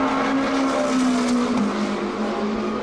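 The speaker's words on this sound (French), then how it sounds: "J'adore le bruit de la Porsche, il pète dans tous les sens" A Porsche hypercar engine roars loud and close, holding a steady high drone while the exhaust crackles and pops throughout.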